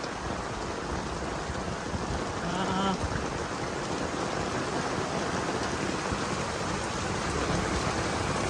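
Heavy rain pours steadily in Chaiyaburi, a dense, continuous hiss with no break and no speech.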